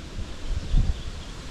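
Wind gusting outdoors on a fishing outing by the water, a low rumbling buffet against the microphone that swells briefly in the middle, with no talk.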